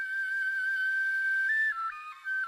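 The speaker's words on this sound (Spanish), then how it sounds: "El suberotarra Michel Echecopart ha creado una réplica exacta de las flautas prehistóricas encontradas en Istúriz" A replica prehistoric flute carved from a vulture's long leg bone, modeled on finds from Isturitz in the Pyrenees, plays a pure, breathy sustained tone that steps between a few pitches, alone and close.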